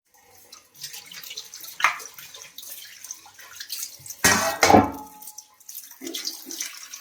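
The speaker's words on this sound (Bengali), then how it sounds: "মাছগুলো একে একে ধুয়ে নিই।" Hilsa and pona fish being rinsed one by one in water, with splashes and trickling that come in short bursts, one louder gush in the middle, fairly close and moderate in level.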